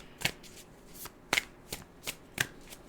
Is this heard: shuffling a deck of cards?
yes